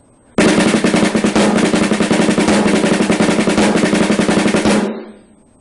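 A snare drum plays a rapid roll with diddled double strokes, a dense, loud stream of close strokes starting abruptly, holding steady for about four seconds, then stopping with a short ringing tail.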